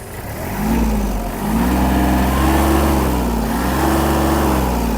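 A Kubota GL-260 Japanese mini tractor engine runs steadily, then revs up, its pitch rising and falling in waves, loud and close with no talking.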